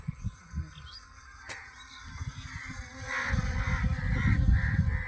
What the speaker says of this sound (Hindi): पूरा देखो कितना पक्षी आ गए।